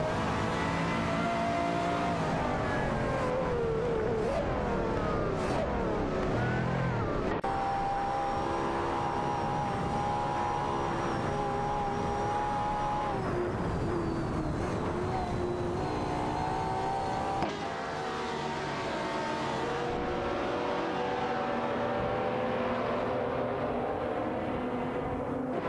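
Racing cars in a video game race, including a Bertone Mantide and a Ford GT, engines roaring continuously with shifting pitch as they accelerate and pass, loud and sustained with no talking.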